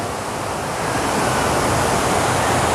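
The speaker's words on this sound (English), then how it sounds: "The soft roar of the water in the background" Steady roaring rush of water cascading at the Fort Worth Water Gardens fountain in downtown Fort Worth, a broad, even wash of sound filling the space with no voices over it.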